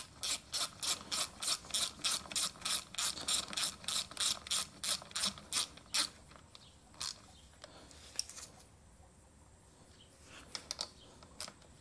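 A hand ratchet torques down a motorcycle clutch, giving about six seconds of fast, evenly spaced clicking bursts up close, then a few scattered single clicks and faint workshop quiet.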